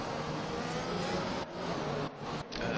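Several F1 2021 cars rolling slowly around the Brazil circuit on a formation lap, a steady broadband engine drone with brief dips, no talking.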